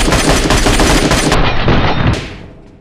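A video game firefight: a loud burst of rapid automatic gunfire lasting about two seconds, then cutting off and fading quickly.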